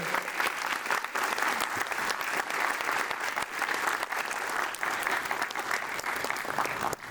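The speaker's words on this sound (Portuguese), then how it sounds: "Salva de palmas" A sustained round of applause from an audience at an opening event, dense, even clapping that continues steadily without a break and sounds fairly close.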